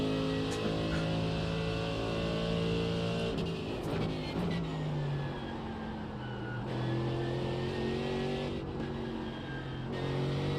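A GT3 race car in a racing video game holds a steady engine drone with shifting harmonic tones throughout, rising and falling across gear changes. The car stays close and continuous, with brief quieter dips.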